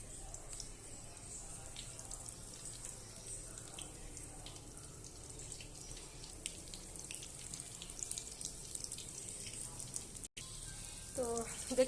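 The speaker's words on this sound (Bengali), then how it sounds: "দিয়ে এবার আমি ভালোভাবে বেসনে বেগুনটা ডুবিয়ে তেলে দি" Gram-flour-battered eggplant slices fry in hot oil, a faint, steady bubbling sizzle with soft crackles and a few light clicks near the end.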